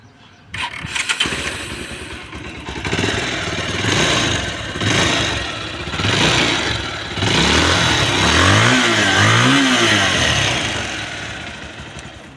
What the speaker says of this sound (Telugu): ఒకసారి బైక్ అయితే స్టార్ట్ అయితే చేసి చూసుకుందాం మనం